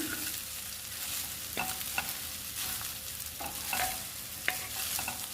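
A spoon stirs chilli powder into egg rice made with unpolished rice in a pan, giving repeated scraping strokes over a soft continuous sizzle, close up with no talking.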